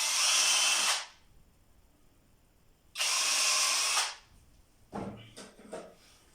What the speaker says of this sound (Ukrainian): Свердлимо отвір під дріт.